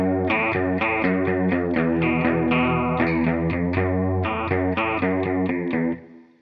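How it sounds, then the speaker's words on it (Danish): An electric guitar run through a very strong chorus pedal plays a steady sequence of plucked, shimmering notes, loud and alone, fading out at the end. "Nu den chorus her, den er alt for meget"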